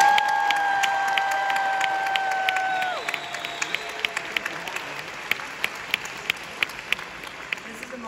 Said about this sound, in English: A big round of applause once again for all you have accomplished.